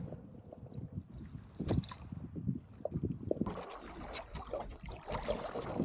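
A canoe moves across North Tea Lake with irregular soft paddle strokes, drips and gurgles near the hull, giving way partway through to a steadier wash of water and a faint hiss.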